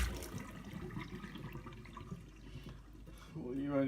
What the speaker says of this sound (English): You can't put your hand under that water,